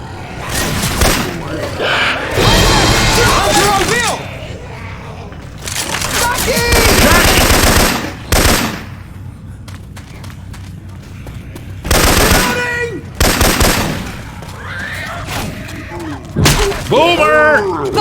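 Syphon Filter weapon sounds replace the guns in Left 4 Dead 2, firing loud rapid bursts and single heavy shots in several clusters, with character voices shouting between volleys.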